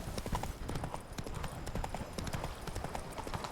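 Roach, Geralt's horse in the Witcher 3 video game, gallops in steady rapid hoofbeats, with a quick, even clip-clop rhythm that stays moderately close and fairly quiet throughout.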